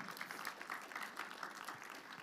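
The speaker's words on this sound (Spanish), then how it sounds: "dele ese fuerte aplauso al Señor" A church congregation claps for the Lord during a service, a steady, continuous patter of many hands at a moderate distance with no speech over it.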